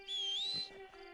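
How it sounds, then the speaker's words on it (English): A single custom horse whistle in the video game Red Dead Redemption Online, a clear rising tone held for about half a second over a quiet game backdrop. "You get to make a custom whistle."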